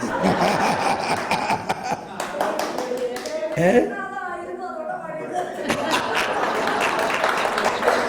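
Audience at a Malayalam Christian retreat in Bangalore clapping along to a song, steady dense applause under singing and talk for most of the stretch, thinning briefly in the middle before the clapping swells again.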